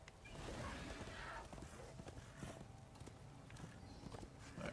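Hoofbeats of a spectral horse made of souls in the video game Darksiders 2, a steady clip-clop rhythm of repeated hoof strikes, faint and low in level under a soft ambient background.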